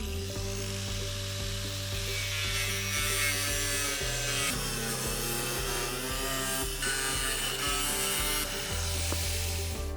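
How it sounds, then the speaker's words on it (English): An angle grinder or jigsaw cuts through a plastic roofing sheet with a steady, harsh buzzing rasp, close and continuous, its pitch dipping briefly partway through, with no voices. "hold the sheet securely when cutting it with the angle grinder"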